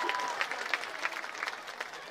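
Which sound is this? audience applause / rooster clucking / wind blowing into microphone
audience applause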